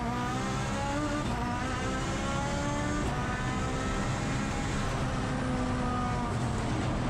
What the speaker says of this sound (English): Hard on the brakes now, pulling it up, paddle shifting back to second and third